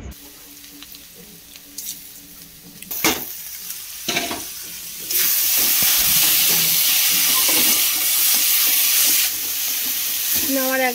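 Flattened rice pulao with fried potatoes, cashews, raisins and bay leaves is stirred in a hot pan, with a steady close sizzle that swells loud midway and scraping stir strokes throughout.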